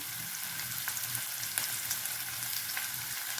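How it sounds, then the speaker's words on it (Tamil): Onion, curry leaves, green chili and ginger sautéing in hot oil for rava appam, a steady close sizzle and crackle with faint stirring and no talking. "எல்லாத்தையும் நல்லா வணக்கிக்கலாம்"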